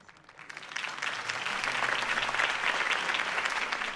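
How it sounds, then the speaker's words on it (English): Crowd applause in the Batman Telltale Series video game after a campaign speech, swelling quickly from a quiet start into sustained, dense clapping with no talk over it. "If only Mr. Wayne, my campaign's largest backer, could have heard that applause"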